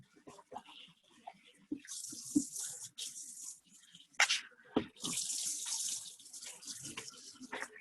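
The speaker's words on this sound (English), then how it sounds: "you gotta wash your hands and wash and clean the environment" A kitchen tap runs in bursts while hands are washed before cooking, the water gushing on and off with brief pauses and a few soft clanks.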